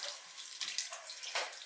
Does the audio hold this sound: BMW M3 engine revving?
no